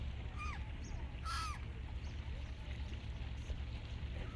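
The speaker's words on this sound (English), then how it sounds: "That is a black-headed gull" A black-headed gull calls from outdoors at Windermere at lunchtime, giving a few short, harsh, rising and falling cries over steady background rumble, moderately distant.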